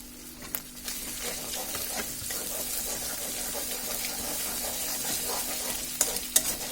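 Egg and tomato stirred together in a hot pan, a steady soft sizzle with scraping spatula strokes and a couple of sharper clinks near the end.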